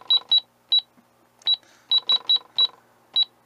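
A 2013 Jakks Pacific McDonald's electronic toy cash register gives about ten short, high, clean beeps at uneven intervals as its buttons are pressed, close and clear against a quiet background.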